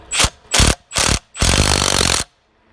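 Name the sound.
socket wrench ratcheting wheel nuts back on with deep socket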